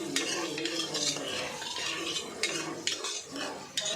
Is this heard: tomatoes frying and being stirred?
yes